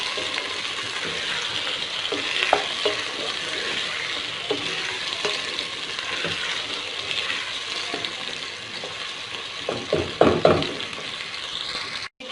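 Chopped tomatoes sauté in a pan for chicken with green beans, a steady close sizzle running throughout with scattered scraping clinks of a spoon stirring, growing busier near the end.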